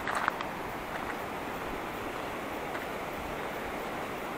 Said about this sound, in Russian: Водопад журжит.